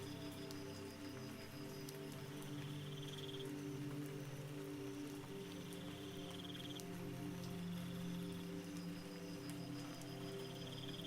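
Steady rain falls through a rainforest at night as a continuous soft hiss, with faint insect or frog calls chirping in the background and no talking.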